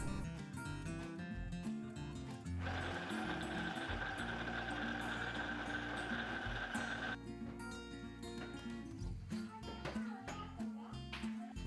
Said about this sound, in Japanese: 小麦粉とバターを混ぜる工程はミキサーを使って時間短縮